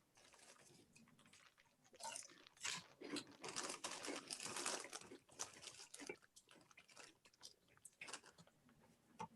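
Someone eats a crunchy snack mix of chocolate toast crunch cereal and popcorn close to the mic, with irregular crisp crunching bursts and soft mouth sounds.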